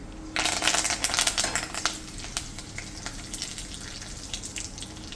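Mustard seeds splutter in hot oil for a Hogenakkal-style fish curry, a dense burst of sharp crackling pops at first that thins into sparser, scattered snaps over a low sizzle.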